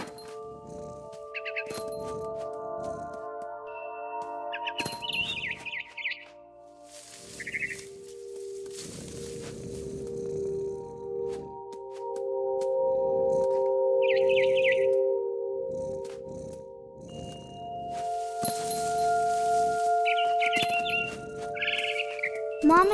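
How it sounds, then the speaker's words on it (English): A barn swallow in What Remains of Edith Finch gives short, high, scattered chirps over a soft game ambience, with sustained tonal music and occasional bursts of rustling noise. "Then I heard chirping outside my window. It was a barn swallow going back to her nest."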